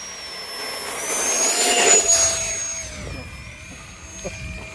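An E-flite Habu SS 70mm electric ducted fan jet on 6S power spools up to a loud, whining rush, its high-pitched fan tone rising and then easing back, heard close by and alone.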